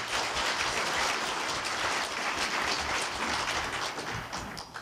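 Audience at a Korea University labor culture award ceremony applauds in gratitude: thick, sustained clapping from a large crowd, near and even, fading slightly at the end with no speech.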